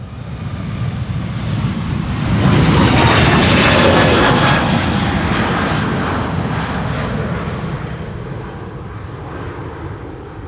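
A JetBlue airliner departs runway 36L (Polderbaan) at Amsterdam Schiphol on a windy day, its jet engine roar swelling to a broad peak and then slowly fading into the distance.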